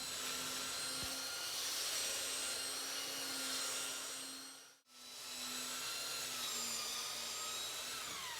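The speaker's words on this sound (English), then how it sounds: "time to do some more sanding." Power sanding on a live edge wood console table: a steady, close whirring drone with a constant hum, briefly cutting out midway before resuming at the same level.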